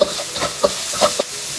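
Beef with chilies stir-frying in a hot pan over medium-high heat, with a steady faint sizzle broken by several short scraping stirs and clinks of the utensil against the pan.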